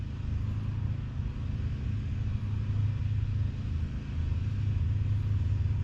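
A car engine held at wide open throttle during an engine swap, giving a steady, loud, continuous low roar and rumble that holds for the whole stretch without a break.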